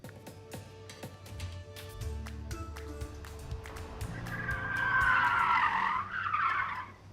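Police cars skid in a law enforcement driving training course, tires squealing loudly over a steady engine drone; rapid clicks run underneath and the screech swells and fades.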